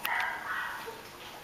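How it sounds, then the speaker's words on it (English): A mixed-breed female dog whimpers and gives soft, high yelps, fairly faint and close, with a little background noise. "She's an adorable dog."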